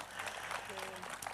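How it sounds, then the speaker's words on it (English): Audience applause after a Booker International Prize announcement, a steady wash of clapping at moderate level lasting about a second, with faint speech-like tones threading through it. "Can we have a round of applause for that?"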